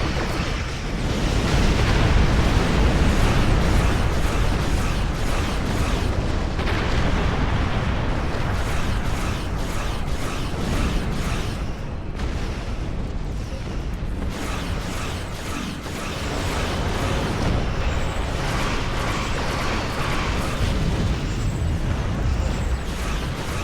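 Starship weapons fire and explosions in a space combat video game, a continuous dense roar of blasts and mechanical rattling with rapid repeated impacts, loud throughout with no pauses.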